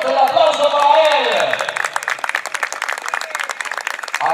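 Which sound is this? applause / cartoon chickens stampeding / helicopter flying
applause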